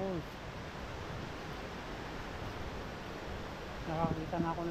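A waterfall among long rattan vines makes a steady, even rush of water throughout, with people talking briefly at the start and again near the end.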